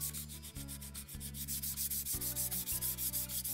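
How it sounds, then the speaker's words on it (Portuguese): Sandpaper, 180 or 220 grit, scrubs back and forth over MDF in steady strokes, with short pauses between passes. The sound is close and fairly loud, with no voices. "Eu peguei a lixa de madeira, pode ser uma 180, pode ser 220"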